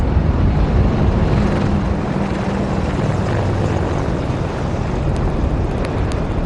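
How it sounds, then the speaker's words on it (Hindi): Three Apache attack helicopters flying in formation over the Republic Day parade near India Gate, their heavy rotor thump and turbine roar loud and continuous overhead, with wind buffeting the microphone. "अजय फॉर्मेशन में 3 अपाचे हेलीकॉप्टर विक्ट्री फॉर्मेशन में"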